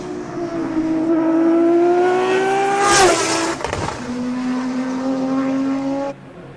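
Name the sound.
race car engine revving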